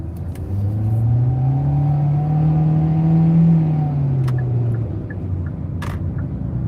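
Car engine droning steadily from inside the cabin while driving, a low hum that swells slightly as if accelerating, then eases toward the end, with a few faint clicks near the close.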